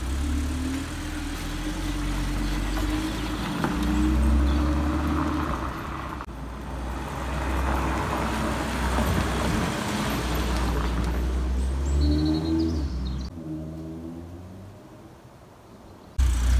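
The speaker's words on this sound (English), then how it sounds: "we'll take it for a spin round the yard first and see what it's like" An Audi RS3 salvage rebuild driven around a yard, its engine humming steadily close by with shifting revs and road noise, easing off toward the end.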